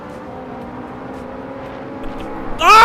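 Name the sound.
Ferrari engine racing in the video game Assetto Corsa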